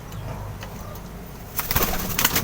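Soft low cooing from pigeons under a steady background hum, with a few brighter rustles and flutters near the end.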